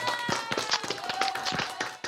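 Studio audience applause on a talk-show set, dense crackling claps filling the whole stretch at steady loudness, with no voices over it.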